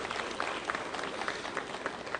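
Steady applause from an audience at a Brazilian Congress session honoring Abdias Nascimento, a dense, even patter of many hands clapping throughout.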